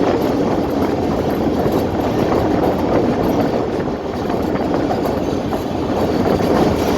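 Jaffar Express of Pakistan Railways crossing the Lansdowne Bridge, a steady loud roar of rolling wagons with faint rhythmic clatter, continuous throughout with no voices.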